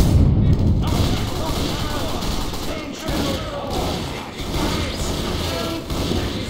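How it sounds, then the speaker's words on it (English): Dense video game gunfire rattles without a break through a class war battle, thudding shots and booms overlapping in a constant barrage while voices shout over it. "Come on, lads! Let's shoot them all!"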